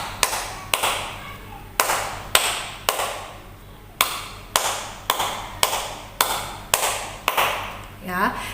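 Repeated tepuk pramuka, the scout clapping rhythm, with crisp hand claps in a patterned sequence of short groups, close and clear, and a brief voice at the very end.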